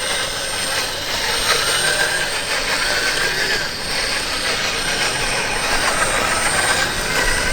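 A brushless RC car creeps along at low speed outdoors, its motor giving a steady high whine over continuous rolling and rushing noise that holds level for the whole stretch, with no talking.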